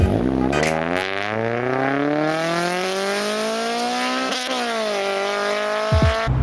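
A VTEC car engine revs hard and close, its tone climbing steadily in pitch with a strong, buzzy harmonic whine, heard alone without talk.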